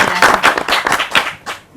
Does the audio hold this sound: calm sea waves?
no